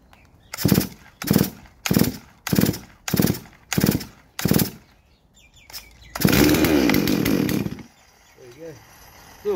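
A Farmertec G444 chainsaw being started for the first time gives seven rhythmic pull-cord rasps, then the engine catches and roars loudly for about two seconds before dropping away, close and without talk.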